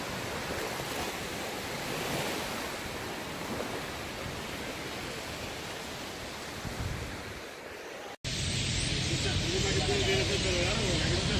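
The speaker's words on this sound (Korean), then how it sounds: "겨울 바다입니다. 파도 소리를 들어보시죠." Steady wash of winter sea surf rolls continuously with a windy, rushing hiss, close and loud, briefly cutting out before resuming even stronger.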